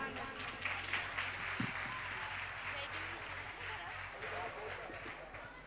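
Audience applause after a children's dance drama staged at a Jain religious event, a sustained wash of many hands clapping at moderate distance, steady and even, with faint voices mixed underneath.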